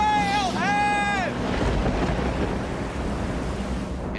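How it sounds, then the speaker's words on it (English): Strong wind roars steadily at a trailhead on Rock Creek Trail, a loud, unbroken rushing gust. A brief high whistling wail rises over it at the start, then fades into the constant blow. "And this wind wouldn't let up."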